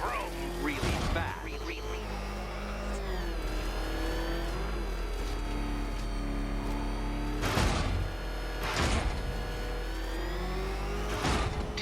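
Batmobile engine in Batman: Arkham Knight droning steadily throughout with rising revs and a few sharp bursts, with a voice talking over it.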